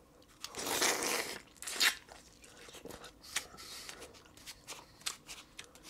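Comic book cereal being crunched and chewed up close, loud crisp bites early on followed by quieter, irregular chewing crunches, no talking.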